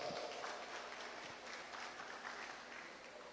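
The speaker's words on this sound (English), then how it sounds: "Let's give them a big round of applause." A faint, steady patter of audience applause fills a graduation hooding and pinning ceremony hall, continuous clapping from a seated crowd heard from a distance without speech over it.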